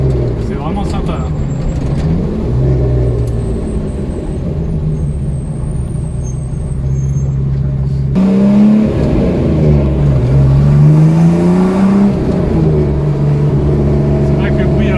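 Ford Sierra XR4i V6 rally car driving, a loud, steady engine drone from inside the car, its pitch rising and falling with the throttle, with people talking over it throughout.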